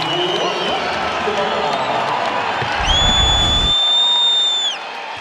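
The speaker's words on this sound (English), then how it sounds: "This is the loudest we've heard this crowd all night long" A college basketball arena crowd roars during a game, a loud, sustained mass of cheering and clapping with a referee's whistle blast piercing through near the end, while a commentator talks over it.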